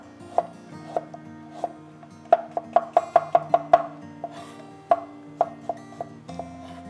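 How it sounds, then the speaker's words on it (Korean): A knife thinly slicing garlic and ginger on a cutting board gives a run of crisp, close taps, with a quick burst of even strokes in the middle and scattered cuts before and after. "마늘, 생강 최대한 그냥 얇게 썰어 주세요."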